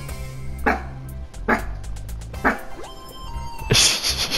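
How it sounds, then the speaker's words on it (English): A dog in the video game Megadimension Neptunia VII barks three times at a steady pace over game background music, then a brighter burst of sound follows at the end. "She literally pops out like, what are you barking at?"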